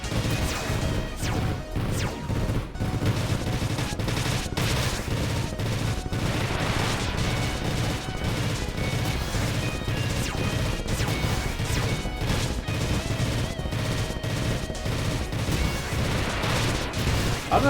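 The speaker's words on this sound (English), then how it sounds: "I'm just shooting a crab." Rapid, dense bursts of gunfire and crashing impacts pound against a crab boss in the video game Freedom Planet 2, a loud, continuous barrage with busy game music and effects, no talking.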